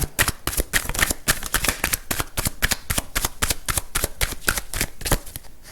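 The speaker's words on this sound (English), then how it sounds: "let's just pull a couple of cards here just to clarify anything else we need to know" Tarot cards being shuffled and pulled from the deck: a fast, steady run of crisp riffling flicks, close and fairly loud, continuing without pause and with no talk.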